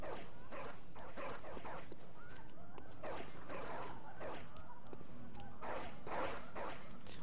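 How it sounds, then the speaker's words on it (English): Hunting dogs in the video game Bloodborne bark and snarl in several short, harsh bursts as they rush in, set against a steady game backdrop. "dog is about to rush up on me"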